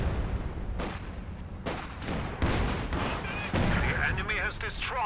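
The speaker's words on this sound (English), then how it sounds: "Oh, so is that another base barrage? Yep, another base barrage." Base barrage artillery in Company of Heroes 2 thuds and booms in a string of heavy impacts, fairly loud and spaced unevenly, with game voices and battle noise layered over the shelling.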